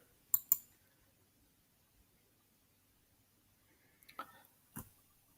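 Sharp computer mouse clicks on a download button sound in a quiet room: a quick double click early, then a few more isolated clicks about four seconds later.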